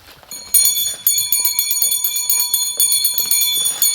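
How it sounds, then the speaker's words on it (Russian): First school bell rung by hand at a first-of-September school ceremony, a bright continuous metallic ringing that starts after a brief quiet moment and rattles on loudly in bursts. "А теперь для присутствующих прозвенит первый школьный звонок"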